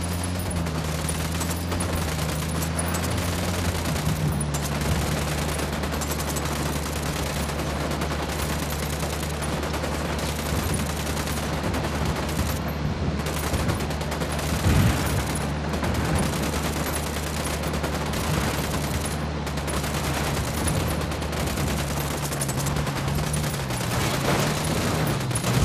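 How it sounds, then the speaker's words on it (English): Sustained automatic gunfire rattles through a firefight in Ghost Recon Wildlands, dense overlapping bursts over a low rumble that carry on without pause, loud and close. "Opening fire."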